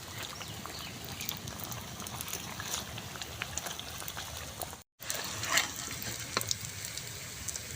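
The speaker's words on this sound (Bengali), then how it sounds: "ভেজে নেব পাউরুটিগুলো।" Bread pieces sizzle in hot oil with a busy crackle and bubbling that keeps on at a modest level, broken by a brief silence partway through.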